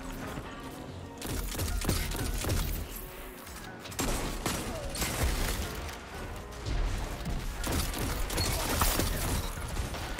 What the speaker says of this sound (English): this scout rifle is so awesome